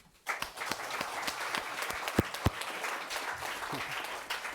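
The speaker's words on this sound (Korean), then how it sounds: "우리 최복선 목사님 그리고 김 장로님 그리고 우리 성도님들 축하드리고 다 같이 우리 하나님의 박수 한 번 더." A church congregation at a dedication and installation service breaks into applause, starting abruptly and continuing as a steady, fairly close patter of many hands with a few sharp individual claps.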